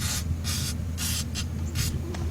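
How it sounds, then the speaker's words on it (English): Spray lubricant hisses onto the front strut of a 2008 Ford Fusion, with about five short, close bursts separated by brief pauses. "let's spray that strut up a little bit"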